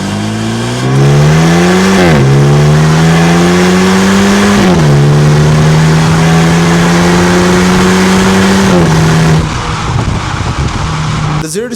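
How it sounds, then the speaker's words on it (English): 2025 Maserati Grecale Modena SUV accelerating hard from a standstill on a road, the engine revving loudly and climbing in pitch through several gear shifts before easing off near the end. "we're gonna be giving it the beans from a standstill and seeing how this thing could get up to highway speeds once it's stopped on a road"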